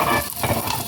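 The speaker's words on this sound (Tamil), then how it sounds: "கடுகு வெடிச்சாச்சு." Hot oil sizzles and crackles loudly in a brief, close burst of spattering as mustard seeds splutter while making onion chutney.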